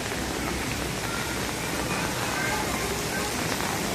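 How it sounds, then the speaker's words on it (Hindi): Heavy rain pours at Kanheri Caves, a dense, steady hiss of water falling on rock, loud and unbroken throughout. "झमाझम बारिश, और लोग बारिश का मज़ा भी ले रहे हैं।"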